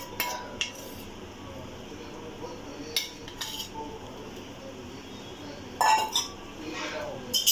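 Gram flour roasts in ghee over a low flame for besan ladoo, a metal spoon clinking and scraping against the pan in short scattered bursts over a quiet background.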